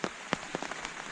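Rain falling steadily outdoors in hilly rural Kerala, a soft continuous patter with scattered louder drops striking nearby surfaces, no voices present.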